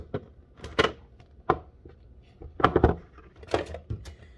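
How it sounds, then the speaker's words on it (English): Creamy pecan dressing is emptied over an apple salad and mixed with a spoon, giving irregular scraping and clinking knocks of utensil against bowl in scattered clusters, close and moderately loud, with no talking. "we are ready to empty in our creamy dressing and mix"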